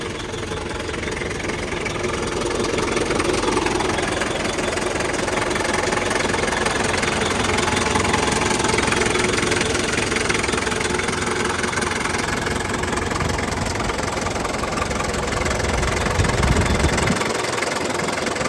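A 1997 Daihatsu Taft GT engine runs steadily at idle, a close, continuous mechanical hum with a faint knocking pulse, ending in a brief low thump near the end.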